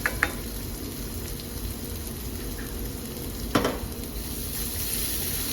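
Garlic sweats in hot oil in a pan left over from cooking chicken, with the heat turned off. A soft, even sizzle runs throughout, broken by a couple of brief clinks of a utensil.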